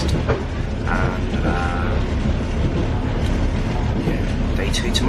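Steady rumble and rhythmic clatter inside a Trans-Siberian Railway train carriage, continuous and fairly loud, with faint voices in the background.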